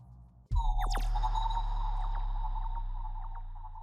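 A granular-synthesis tone swells in abruptly with sweeping, chirping overtones over a sustained low drone, washed in long reverb that lingers and slowly fades.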